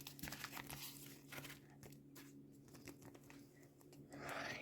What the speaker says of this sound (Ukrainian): І ми відкриваємо пакетик.